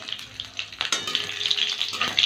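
Cumin, fennel seeds, dry red chilli and green chillies sizzling in hot oil as a tempering, with a crackly hiss broken by a few clinks and stirs close by.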